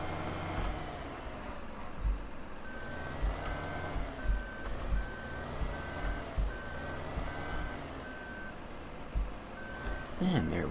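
Reversing beeps from a mining truck in a gold mining video game, a regular series of evenly spaced electronic beeps over engine rumble, with someone talking throughout.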